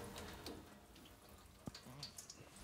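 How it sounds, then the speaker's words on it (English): Water from a tap runs at full blast into a Crucial Elements Reign reverse osmosis system, a steady wash of rushing water with small splashes and clicks, fairly quiet and continuous. "I can now turn on the water full blast"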